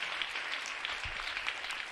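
A church congregation applauds together in sustained, dense clapping during a French-language worship service, steady and moderately loud with no voices breaking through.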